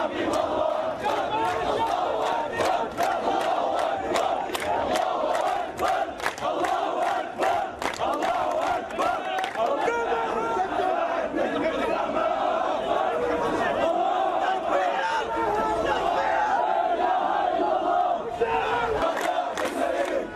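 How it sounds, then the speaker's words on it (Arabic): Hundreds of Palestinian mourners at a funeral procession in Jenin camp chant slogans together, a dense, continuous roar of many voices with rhythmic shouted bursts throughout, loud and steady. "مئات الفلسطينيين الذين رددوا هتافات ضد إسرائيل مطالبين بالثأر لدماء الشهداء"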